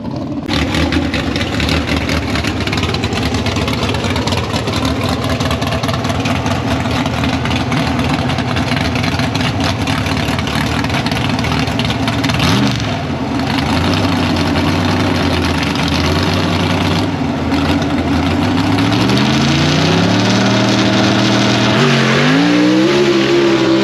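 A 2023 Ford Mustang EcoBoost idles loudly and close by at a dragway, its steady rumble broken by a few rev blips that rise and fall, with a stronger rising rev near the end.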